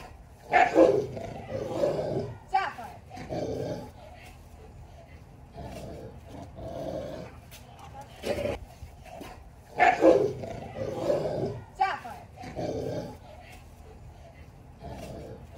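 A Tibetan Mastiff named Kenani growls and barks while meeting another dog in the pack, with bursts of rough, roaring vocalizing repeating in clusters, loud and close.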